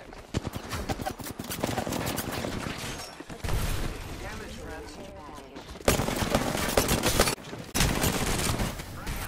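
Dense bursts of automatic gunfire from an Apex Legends firefight, rapid shots clustered in loud waves with brief gaps, while a voice talks over parts of the exchange.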